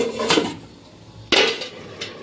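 A lid clanks onto a cooking pot of simmering winter vegetable curry, two sharp metallic knocks a second apart with a lighter tap after, close and clear.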